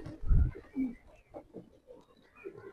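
Jalali pigeons kept at a home loft cooing in low, soft throaty bursts, a few separate coos close by with quiet gaps between them.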